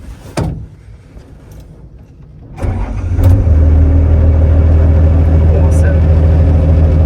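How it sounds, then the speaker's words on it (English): An excavator's diesel engine turns over and fires up after a quiet start, settling into a loud, steady low rumble that continues to the end; a clunk precedes it. "I'm gonna start the machine up"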